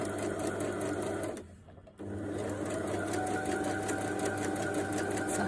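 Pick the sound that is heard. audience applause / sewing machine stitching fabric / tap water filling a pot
sewing machine stitching fabric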